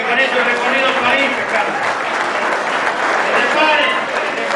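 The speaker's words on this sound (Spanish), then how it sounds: "Quiero un fuerte aplauso" A festival crowd at a fishermen's celebration applauds loudly and continuously, a thick wash of clapping with cheering mixed in, holding at full strength throughout.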